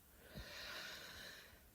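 One slow, deep inhalation is drawn in softly through the nose, a close, airy rush that swells and fades over about a second, quiet and alone.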